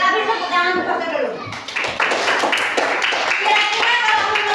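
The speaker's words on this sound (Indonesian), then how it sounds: "Kita beri tepuk tangan untuk Fatul dulu." A class of children applauds a classmate in a classroom. A burst of dense, fairly loud clapping starts partway through and continues, with children's voices mixed in.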